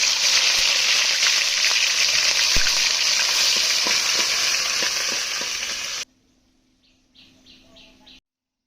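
Cumin, garam masala, dried chillies, onion and garlic fry in hot oil for aloo dum, giving a loud, steady, close sizzle that cuts off abruptly, followed by a few quieter faint sounds.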